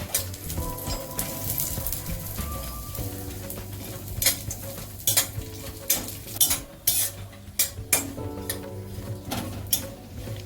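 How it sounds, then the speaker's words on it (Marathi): Grated coconut being dry roasted in a pan, with repeated scraping and stirring strokes and metallic clinks of a spatula against the pan, close and uneven in rhythm, over a faint background hum. "आपण खोबरं भाजून घेऊया"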